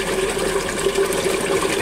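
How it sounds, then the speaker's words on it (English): A reef aquarium return pump runs at full power, near 40 watts, giving a steady close mechanical hum with a faint rhythmic whir and water movement, no voices. "So that's running on full power now, and you'll hear the difference"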